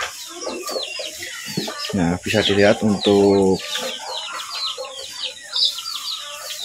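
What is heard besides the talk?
chickens clucking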